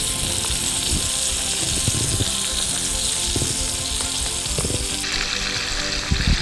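Mackerel fries in a pan for a Kerala fish curry, giving a dense, continuous sizzle and crackle with occasional small clatters, close up and without talk.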